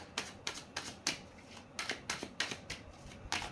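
Tarot cards shuffled by hand in a quiet room, a rhythmic run of about a dozen soft riffling snaps, close and crisp, with no voice over them.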